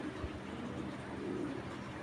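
Racing pigeons coo in a soft, low, continuous murmur against a faint background hiss.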